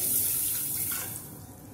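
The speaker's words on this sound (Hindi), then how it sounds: "अब हम इसके अंदर पानी शामिल करेंगे।" Tap water runs steadily into a cooking pot already holding sugar, the start of a sugar syrup for sweet handmade vermicelli; a continuous close splashing hiss with no talk, easing slightly toward the end.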